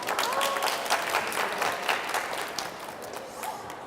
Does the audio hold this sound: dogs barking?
no